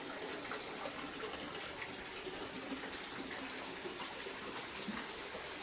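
Steady broadband rush of falling water from the waterfall at Frank Lloyd Wright's Fallingwater house, a continuous, fairly faint roar heard from a balcony, with no voices.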